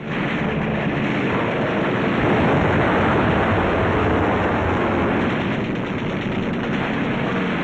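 Rapid aircraft machine-gun fire strafing ships at sea during a 1944 wartime engagement, a loud continuous rattling roar filling the scene without pause, mixed with wind and surf-like noise.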